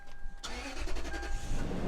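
A Toyota 4Runner engine cranks and fires up, a short starter whir followed by the engine catching and settling into a steady running rumble, close by with no talk.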